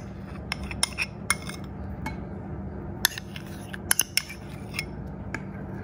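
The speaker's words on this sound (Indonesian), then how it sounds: "Kita aduk gini aja." A spoon stirs condensed milk into water, giving a series of light, sharp clinks against the container, irregularly spaced and close over a steady low hum.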